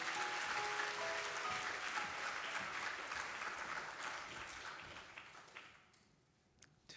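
A church congregation applauds to welcome a pastor at a Sunday worship service. Dense, sustained clapping gradually thins and fades out near the end.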